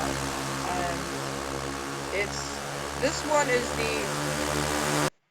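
Steady droning buzz of a twin-propeller airplane engine in the RealFlight 7.5 flight simulator, continuous and even, with someone talking over it before it cuts off abruptly.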